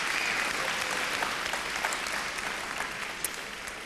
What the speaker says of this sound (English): Round of applause, please, for Nijin Beauty, Bargain Box, and Renaissance Lodge Plus.